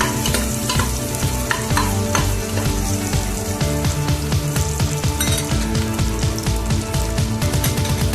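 Onion and garlic fry in a pan for a chicken vegetable stew, giving a loud, continuous sizzle broken by frequent scraping stirs from a spatula. No one speaks.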